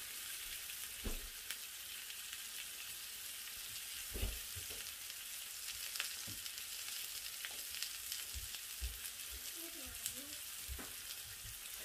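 Chicken tikka sizzler sizzles on a hot plate with oil, a steady close crackling hiss sprinkled with small pops throughout.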